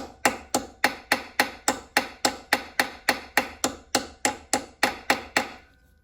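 Small hammer tapping the wheel shaft of a Dinky toy Jaguar car to flare its end, about seventeen sharp, evenly spaced taps at roughly three per second, close and crisp, each ringing off briefly.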